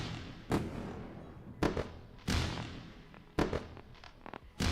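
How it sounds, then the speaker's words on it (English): Fireworks sound effect on a live day-trading stream: five sharp booming bursts at irregular intervals, each with a crackling tail, fairly loud over a steady background hiss, no talking. "And we definitely deserve some fireworks."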